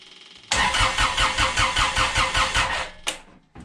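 A Kubota BX tractor's D902 diesel engine, its injection pump modified with the fuel cut off, cranks over with a steady rhythmic chug from the starter for about two and a half seconds, loud and close, then stops without firing.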